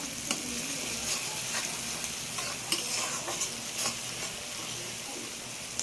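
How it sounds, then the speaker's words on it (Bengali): A spice paste of ginger, garlic, onion and tomato fries in a pan with a steady, close sizzle, broken by light clicks and scrapes from stirring. "এদিকে মশলাটা একটু কষানো হোক"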